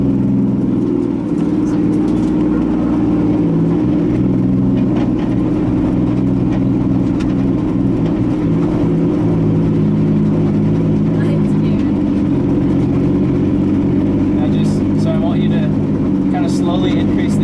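A Nissan 240SX drift car with a 2JZ engine runs at a steady, loud, heavy engine drone from inside the cabin, with low rumble throughout and small clicks and rattles near the end.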